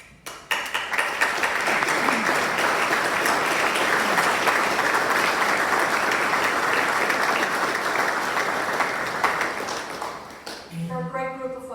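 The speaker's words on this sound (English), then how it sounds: "Advisory members, would you stand for applause, please?" Loud, steady applause from a banquet audience at a law enforcement awards dinner as advisory committee members stand, sustained for about ten seconds before fading as a voice returns.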